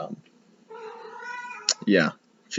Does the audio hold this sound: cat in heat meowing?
yes